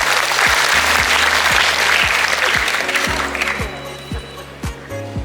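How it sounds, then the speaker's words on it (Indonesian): An audience at a National Teachers' Day celebration in Buleleng claps loudly and continuously, dense applause filling the space before thinning out toward the end, with rhythmic low thumps running underneath. "Tepuk tangan dulu."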